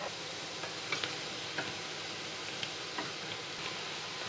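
Dough for Vietnamese three-egg street pastry frying in hot oil, a steady close sizzle with scattered small pops and crackles throughout, no voices.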